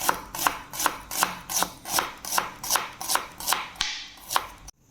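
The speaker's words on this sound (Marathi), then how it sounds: "कांदा ना बारीक चिरून घ्यायचा आहे पातळ लांब असा उभा चिरून घ्यायचा" Onion being sliced thinly lengthwise with a knife on a board, a steady run of about a dozen crisp, evenly spaced chops, close and moderately quiet, with no talking.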